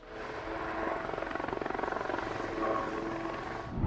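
A Kawasaki OH-1 military scout helicopter of the Japan Ground Self-Defense Force is heard at close range, its rotor blades thumping in a fast, steady rhythm over a loud engine whine that swells slightly midway.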